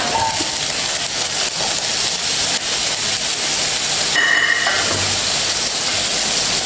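Cubed squash sizzling in hot oil in a pan for a Tunisian kafteji, a steady loud hiss and crackle that carries on throughout without any talking.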